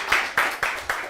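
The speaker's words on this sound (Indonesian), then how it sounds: "tepuk tangan untuk para kontestan." Four evenly spaced sharp hand claps close to the microphone during a live show celebrating contestants, each clap ringing briefly before the next, with no talking in between.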